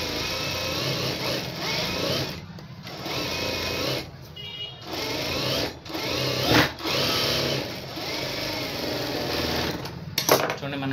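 A sewing machine stitches the lining of a blouse in long continuous runs of rapid whirring, broken by short pauses, with a person talking over it.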